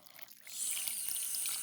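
Water pouring into a bowl of lagman noodle dough made with egg, a soft splashing stream that starts faintly and then runs steadily to the end, with no talking.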